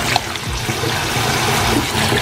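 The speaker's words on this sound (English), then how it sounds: "So now that I have all of my veggies rinsed" Running water splashing over vegetables, including Brussels sprouts, as they are rinsed in a home kitchen, a steady close rush and trickle throughout with no talking.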